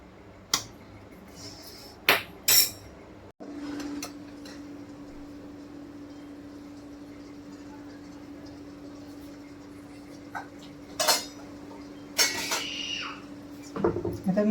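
Metal vessels clank in a home kitchen during cooking of medu vada and sambar: a few sharp, bright knocks early, a lone faint hum, then a cluster of clattering hits near the end as a plate falls.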